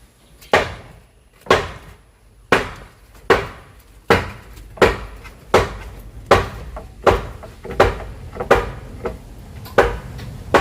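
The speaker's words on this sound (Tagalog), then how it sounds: "Yung martilyo." Sharp hammer blows strike a nail repeatedly in a steady rhythm during work on a house roof, about a dozen loud, close knocks.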